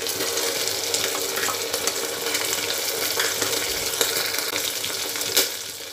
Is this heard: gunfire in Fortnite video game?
no